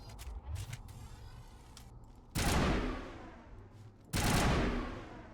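Gunfire in the Mass Effect Legendary Edition game: two loud, sharp bursts roughly two seconds apart, each decaying over a second or so, over a low rumbling background.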